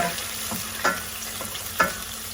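A sauce sizzles and fries steadily in a pan with about a quarter cup of wine in it, the crackle occasionally sharpening with brief stirring scrapes, close and alone.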